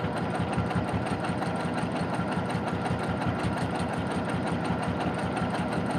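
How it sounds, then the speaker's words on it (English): A sewing machine runs steadily while backstitching a fabric project bag, giving a continuous close, even mechanical whir with a fine rapid stitching rhythm and no talk over it. "now I'm just going to backstitch a little bit right there"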